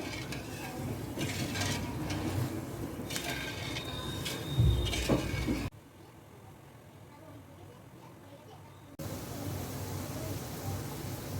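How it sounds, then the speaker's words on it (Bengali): Sugar syrup in a pot is heated while someone stirs it. Close stirring and scraping with light sizzling runs for several seconds, then drops to a quiet hiss, then picks up again. "এবার আমি আস্তে আস্তে সিরাপটা বানাবো, রসটা বানিয়ে নেব। জাল দিচ্ছি।"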